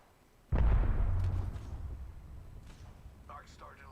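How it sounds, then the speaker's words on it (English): A single loud blast of video game gunfire or explosion hits sharply after a quiet start and then rumbles away, with faint voices afterward. "He's firing downward."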